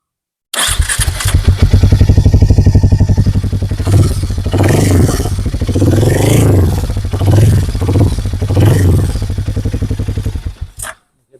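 A Harley-Davidson X440 motorcycle engine fires up and throbs loudly up close through its exhaust, revving in several rising swells before cutting off.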